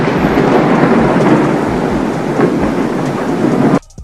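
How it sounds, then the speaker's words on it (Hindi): Thunder from a lightning strike hitting the ground: a loud, continuous deep rumble with crackling texture that rolls on for several seconds before cutting off abruptly. "ये जमीन पर गिरने वाली बिजली बहुत तेजी से आवाज़ भी करती है।"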